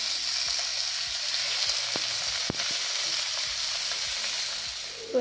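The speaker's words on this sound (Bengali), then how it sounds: "মাছগুলো ছোটো আছে চারটেই একসাথে ভাজা হয়ে যাবে" Four small pomfret fish fry together in a pan of hot oil, giving a steady, close, unbroken sizzle with a few sharp crackles and spits, with no talking.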